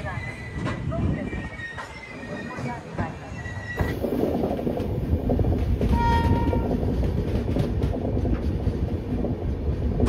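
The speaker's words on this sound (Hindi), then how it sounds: "डिपार्चर हो चुका हमारा ट्रेन का देख लीजिए" A passenger train, the Ujjaini Express, pulls away from Hazrat Nizamuddin station with a steady rumble and rattle of wagons, a brief horn-like tone, and people chatting faintly nearby.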